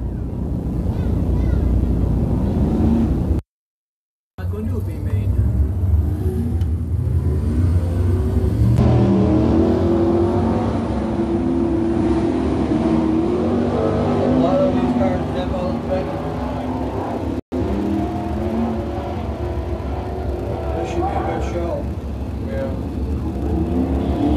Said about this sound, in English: They'll take a couple of laps to get a little bit of heat in the motors here